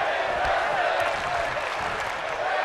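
A Portland, Oregon arena crowd at the Moda Center applauds in the WWE 2K24 wrestling game, a steady wash of clapping and crowd noise beneath a commentator's voice.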